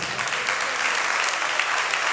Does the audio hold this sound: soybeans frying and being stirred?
no